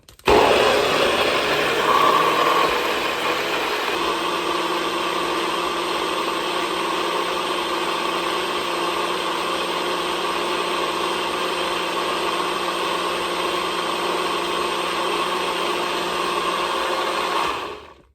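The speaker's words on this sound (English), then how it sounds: "So I'm just going to go ahead and put the top on and blend." A bullet blender grinds cranberries in one continuous loud whirring run of about seventeen seconds, starting abruptly and cutting off at the end, close by with no voices.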